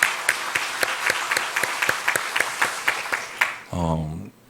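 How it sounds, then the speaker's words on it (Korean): Church congregation claps in scattered, irregular bursts for about three and a half seconds, moderately close, before the applause gives way to a voice speaking. "우리 박수로 하나님께 한번 영광 올려드렸으면 좋겠습니다."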